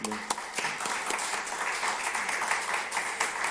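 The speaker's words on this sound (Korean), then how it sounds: "우리 격려의 박수 한번 부탁드립니다" A church congregation breaks into sustained applause during a Sunday worship service, steady dense clapping from many hands in a reverberant hall for a few seconds, with no talk over it.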